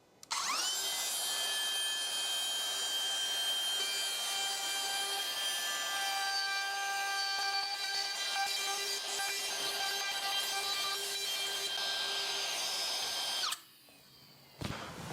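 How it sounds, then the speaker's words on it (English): A router cutting a mortise in wood screams loud and steady with a high whine for about thirteen seconds, then winds down and stops, leaving near silence. "let's go ahead and cut this mortise"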